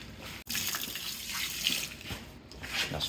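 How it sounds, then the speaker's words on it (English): Cold water pours continuously onto ground sausage meat for jalapeño cheddar smoked sausage, a soft steady splashing and trickle at close range with a brief dip early on, no voices. "All right, we're gonna go to adding some water."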